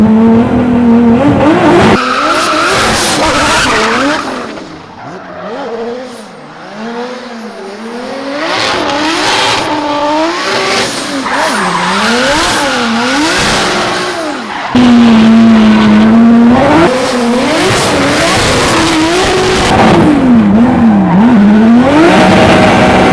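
A car is driven hard around a small homemade race track. Its engine revs rise and fall repeatedly as the tires squeal through turns, loud and close, with sharp accelerations and no talking.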